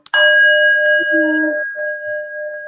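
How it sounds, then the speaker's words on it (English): A single bell is struck once and rings out with a bright, clear ding whose tone lingers and slowly fades, close and loud, with a brief soft voice sound partway through. "ding the bell."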